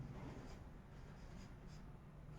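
A teacher writes the next example on a classroom board during a Hindi grammar lesson, a steady faint scratching of chalk or marker strokes over low room noise, with no voices.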